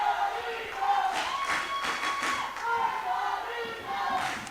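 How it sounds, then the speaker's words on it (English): Excited crowd noise at a girls' under-14 football match between Puerto Rico and Martinique, a steady distant roar with scattered shouts and thuds continuing throughout. "as you can hear, we have the fouls, the crowd very excited"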